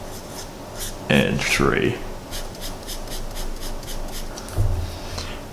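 Coordinates are written by hand on a board during a lesson on the Cartesian plane. Brief scratchy, squeaky strokes come through under a speaking voice.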